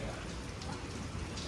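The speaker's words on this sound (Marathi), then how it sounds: "पाऊस एवढ्या जोरात चालू आहे." Heavy rain pours down steadily during Diwali evening, a dense continuous hiss of drops on surfaces, close and unbroken throughout.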